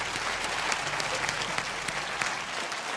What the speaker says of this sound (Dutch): Even applaus.